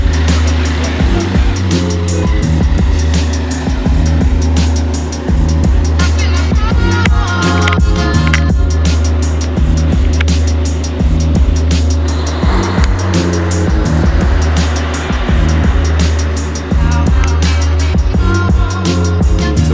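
A BMW M2 drives scenic routes between Columbus and Cincinnati, its engine a loud, continuous drone with tire and road noise rising and falling throughout, heard close with no speech.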